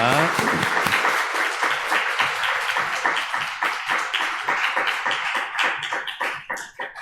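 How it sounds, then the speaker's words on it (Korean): A church congregation at a Sunday worship service claps together in thanks, a full, steady round of applause from many hands that slowly thins into looser, scattered clapping toward the end. "다시 한번 감사의 박수를 보내겠습니다"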